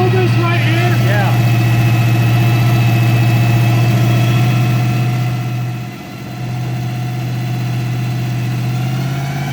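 A 351 Windsor V8 in a Foxbody Mustang runs steadily after its first start in years, with a loud, close, rough idle throughout and a brief dip partway through.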